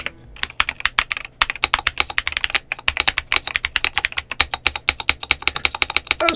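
Steady, rapid typing on a fully assembled Monsgeek M3W mechanical keyboard with tactile switches, crisp close keystrokes in quick bursts with a couple of brief pauses, no voices.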